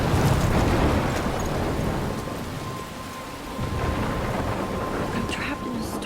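Thunderstorm in the video game Life Is Strange: loud rolling thunder over heavy, steady rain, with the rumble dipping briefly midway and then swelling again under the constant downpour.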